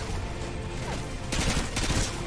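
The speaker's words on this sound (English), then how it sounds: "I hear gunshots." Gunfire in the video game Modern Warfare 2 Spec Ops, a distant clatter of shots with a louder burst partway through, set against steady game ambience.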